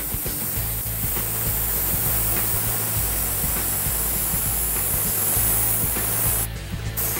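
Steady hiss of an airbrush spraying gray paint around the edges of an Iron Man helmet, continuous and close, running without pause for several seconds.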